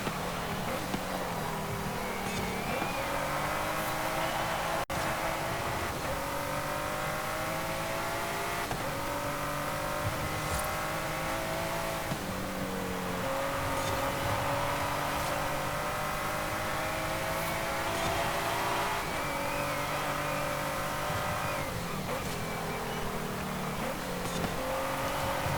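Race car engine in Forza Horizon 5 during a championship race, a steady loud drone rising and falling in pitch through repeated acceleration and gear shifts, alone without talk.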